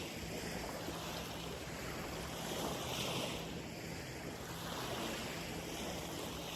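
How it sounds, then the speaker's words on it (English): Water of Lake Tahoe lapping at the shore, heard as a steady, soft wash of small waves mixed with wind noise that swells gently and fades. No one speaks. "And you can hear the water in the lake."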